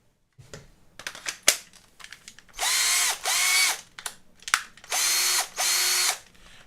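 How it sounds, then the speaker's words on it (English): Bosch GSR 14.4-2 cordless drill, fitted with a rebuilt Li-ion battery, spinning up in four short whirring bursts that rise and then drop in pitch, separated by clicks and handling clatter on a workbench. "this is a working drill."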